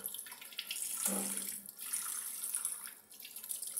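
Fish are washed one by one under a running tap, with steady splashing water that shifts in tone as the hands move through the stream.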